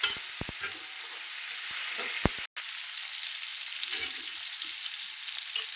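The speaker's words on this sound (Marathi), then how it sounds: "टमॅटो असं तेलात फ्राय द्यायचं बघा" Tomatoes frying in hot oil in a home kitchen, a continuous bright sizzle with a few clinks and scraping stirs, close by, briefly cut off midway, no talk.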